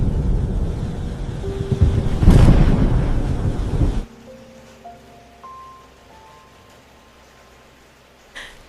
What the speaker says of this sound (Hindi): बर्फ जैसी ठंडी हवाओं के साथ तेज आंधी और तूफान चलने लगा